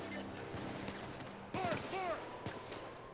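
Gunfire in the video game Payday 2, scattered sharp shots crackling at a moderate distance, with a voice briefly heard in between.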